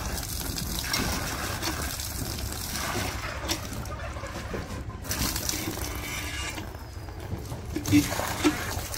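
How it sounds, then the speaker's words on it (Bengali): Water gushes steadily from a hand pump being primed on a village farm, a continuous rushing pour lasting throughout with voices murmuring faintly beneath it. "অবশ্য 2-3টা চারি দিলেই পানি উঠে যায়।"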